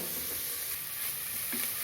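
Onions for a mutton curry sauté in a hot pan, giving a steady close sizzle that runs without a break for about two seconds, with a faint scrape of stirring near the end and no talking.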